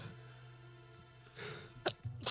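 A quick, faint sneeze comes through against a quiet background hum, part of a tabletop role-playing game session.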